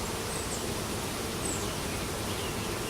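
Honey bees hum steadily at an open hive as a beekeeper works new drawn foundation. The buzz is a dense, continuous drone with faint rustling and no talk.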